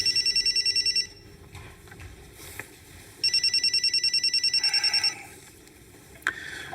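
A telephone bell rings loudly and up close in two bursts of rapid trilling, separated by a quieter gap with faint background sounds.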